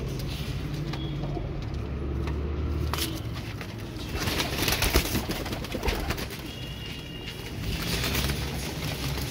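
Pigeons cooing close by in soft, repeated low calls over a steady background hum, with a few sharper knocks and rustles mixed in.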